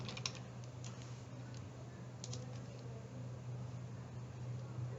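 Faint, sparse keystrokes on a computer keyboard as a library database search is typed, a few soft clicks over a steady low background hum.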